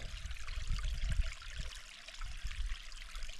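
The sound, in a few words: water flowing over a spillway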